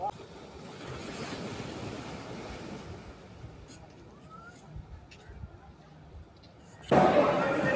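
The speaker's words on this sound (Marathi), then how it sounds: "एक साईडला पूर्ण समुद्र आहे" Steady wash of sea waves and wind rushing over the microphone, fading somewhat midway before a louder gust at the end.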